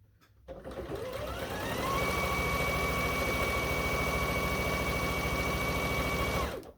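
A sewing machine runs steadily for several seconds while stitching a quilt top, its motor whir rising quickly after a brief start and holding at a loud, even hum until it stops.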